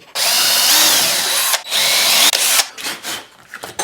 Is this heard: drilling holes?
yes